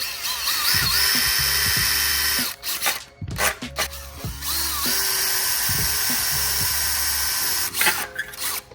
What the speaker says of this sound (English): So I'm going to drill these holes out first